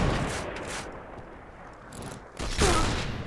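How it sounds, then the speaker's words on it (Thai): Rapid gunfire in the Point Blank shooter video game: a dense burst of shots, a quieter lull, then another loud volley near the end. "มึงยิงรัวจังวะ"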